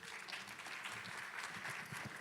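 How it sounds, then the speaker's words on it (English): A conference audience applauds as a speaker is welcomed to present on building rollups: brief, fairly faint clapping from many hands that stays steady through the short stretch. "So please give Hilmar a big round of applause"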